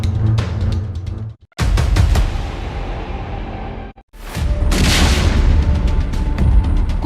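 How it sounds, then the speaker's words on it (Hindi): Missile strikes hit a communication tower in wartime, heavy booming blasts broken by abrupt cuts, each burst a loud rumbling roar with crackling debris. "कुछ ही सेकंड में जोरदार धमाका।"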